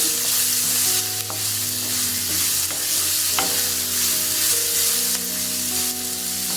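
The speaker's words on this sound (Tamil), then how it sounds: "போட்டு நல்லா கிளறி விடுங்க" Carrots and onion frying together in a pan while being stirred: a steady, close sizzle with scraping spatula strokes throughout and no talking.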